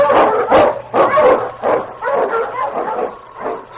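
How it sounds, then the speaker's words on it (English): An Eskimo lead sled dog barks repeatedly in a quick, rhythmic series of loud, close barks with a few whimpering yips mixed in, heard through a narrow, old-radio-like sound. "The Wonder Dog King, swiftest and strongest of Eskimo lead dogs, blazes the trail through storm and snow"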